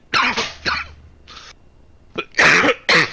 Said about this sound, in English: breaks out into a coughing fit